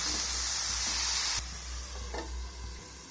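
Cauliflower and other vegetables in a pan with a little water, starting with a loud hissing sizzle that drops to a softer bubbling fry with scraping from stirring.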